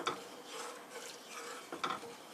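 Curry being stirred in a pot, soft scraping and rubbing strokes close by, irregular and fairly quiet, with a couple of sharper scrapes toward the end.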